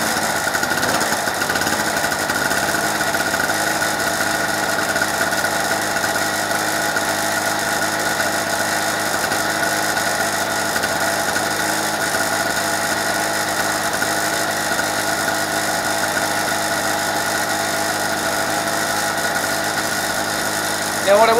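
A two-stroke generator engine runs on a test after two years unused, a loud, steady idling drone with tonal whine and vibration, continuous and close for the whole stretch.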